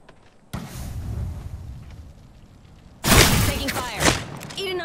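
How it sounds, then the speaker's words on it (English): A frag grenade goes off in Apex Legends: a sharp, loud blast bursts out after a stretch of rumbling gameplay, followed by rattling debris and smaller thuds. "Frag out. Threw my grenade out."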